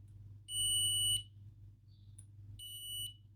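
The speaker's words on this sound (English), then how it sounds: "So now I'll just check each of the connections for continuity and also check for shorts." A multimeter gives two sharp, high continuity beeps while testing connections on a PICO-56 kit circuit board, each lasting under a second with a quiet gap between and a faint hum underneath.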